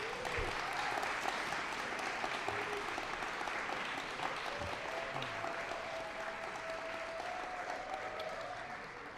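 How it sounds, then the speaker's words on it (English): Sustained applause from an awards ceremony audience for a Lifetime Service Award recipient, steady dense clapping throughout at moderate distance, with a faint murmur of the crowd underneath. "go ahead, a round of applause."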